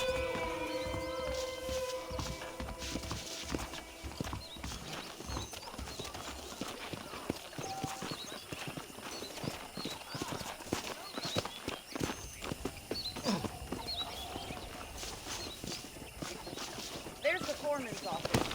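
Saddled horses in the Red Dead Redemption video game, hooves clip-clopping at a steady walking rhythm under continuous spoken dialogue and a faint game score.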